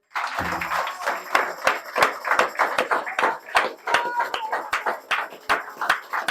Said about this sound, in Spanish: Vamos a dar un aplauso a Jesús.